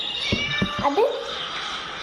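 A cat in the video game Scary Teacher gives a few short meows in quick succession, fairly close and clear over a quiet background.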